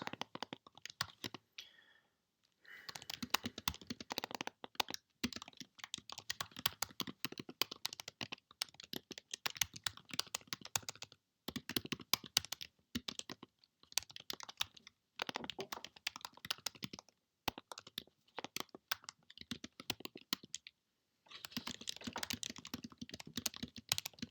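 Typing on a computer keyboard while writing Python code: rapid, quiet clacking bursts of keystrokes, separated by brief pauses, close and soft throughout.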